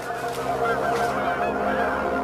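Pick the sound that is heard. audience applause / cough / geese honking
geese honking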